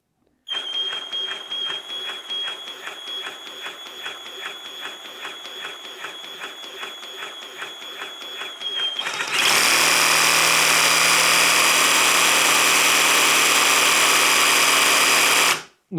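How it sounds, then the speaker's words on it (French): A Ryobi RJS18 18V cordless jigsaw runs from about 70 cm away. It buzzes steadily at a low speed, then jumps to a much louder, harsher high-speed whir for about six seconds before stopping. "j'ai ma scie sauteuse et on va mesurer le niveau sonore."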